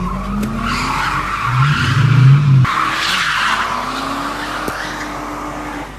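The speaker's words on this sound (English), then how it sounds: "all I seen is a bunch of cars burning rubber, doing donuts" Cars burning rubber and doing donuts give loud, sustained tire squeals with rising and falling engine revs, close and intense, and a sharp burst partway through.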